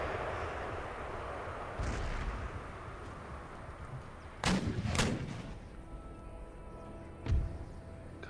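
Howitzer artillery fire in Empire Total War, a few loud booming blasts with rumbling tails, spaced apart over a constant battlefield din.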